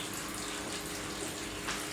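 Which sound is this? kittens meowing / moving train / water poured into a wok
water poured into a wok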